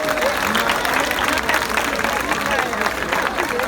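Audience applause and crowd noise at a live jazz concert in Haiti, a dense steady wash of clapping that fills the whole stretch with a loud, even roar.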